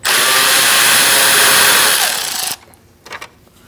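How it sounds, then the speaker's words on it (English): A power tool with a T15 bit whirs steadily and loudly while removing the radiator fan bolts on a 2016-2019 Chevrolet Cruze 1.4L, then stops abruptly, leaving a few faint clicks. "Using a T15, we're going to remove our fan bolts."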